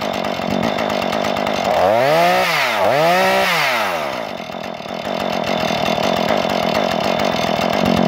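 A Husqvarna 440 chainsaw idles close by as it warms up, a steady loud putter with two brief revs that rise and fall mid-way before it settles back to a rough idle.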